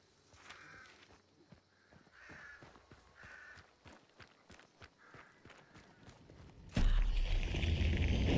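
Crows cawing in the video game Hunt: Showdown, several harsh caws in a loose series over light footsteps, ending in a sudden burst of loud flapping and broadband noise.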